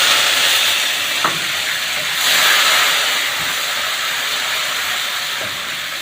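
Spices fry in a pan for a pumpkin curry, giving a steady, loud hiss and sizzle close by, with a few soft clinks of a utensil and no talking.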